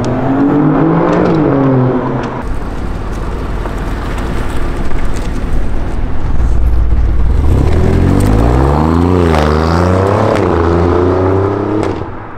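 Alfa Romeo Giulia Quadrifoglio with an open flap exhaust, heard from outside the car: a loud, continuous engine note rising and falling through repeated revs, with some wind noise and no talking.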